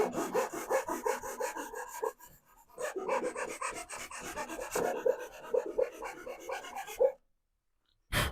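A fine saw cuts a guitar nut slot, giving steady rhythmic rasping strokes that go quiet as the blade reaches the plastic stopper and rubs on it, followed by a few softer strokes before it stops, with no voices.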